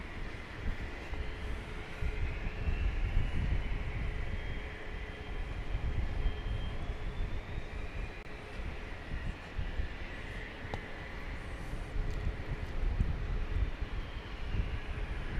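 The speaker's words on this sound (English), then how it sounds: "just taking off was a Bombardier Challenger 605 to Tulsa, Oklahoma" A Bombardier Challenger 605 business jet takes off from Dallas Love Field, its engine roar a steady, moderately distant broadband rumble with a faint rising whine, holding fairly even for the whole stretch.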